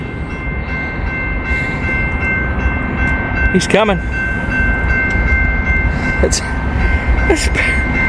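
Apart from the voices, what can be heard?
CSX coal train moving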